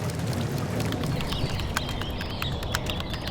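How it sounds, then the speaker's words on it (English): Steady rain hisses and patters continuously, with scattered bird chirps and sharp taps coming through near the end. "Focus on just the sound of the rain."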